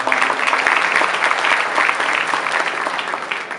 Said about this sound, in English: One round of applause for him.